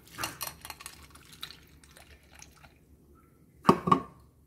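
Water is poured into a pot of dry macaroni with seasoning powder and dried mushroom. It starts as a short run of light drips and trickles, goes quiet, then ends with a louder splash and slosh close by.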